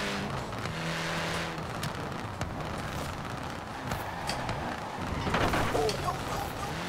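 Saleen supercar in Forza Horizon 4 accelerating hard in fourth gear, with a loud, continuous engine roar that builds steadily throughout, no voices.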